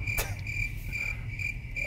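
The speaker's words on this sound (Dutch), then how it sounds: "Krekel" A cricket chirps in a steady, high-pitched rhythmic trill played as a sound effect, constant and fairly loud over a low background rumble, with a brief click near the start.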